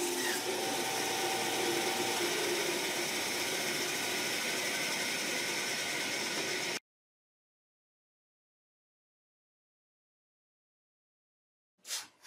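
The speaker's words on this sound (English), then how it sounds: "In the same manner, I cut the second laminated block on the bandsaw." Bandsaw with a 10 tpi blade slicing through a laminated wood block gives a steady, moderately loud whine and rasp for about seven seconds, then cuts to silence before a brief knock at the end.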